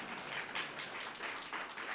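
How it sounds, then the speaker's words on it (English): Faint, steady applause from an audience at an afternoon stage event, a soft continuous patter of many hands lasting a couple of seconds with no voices over it. "You don't have to applaud."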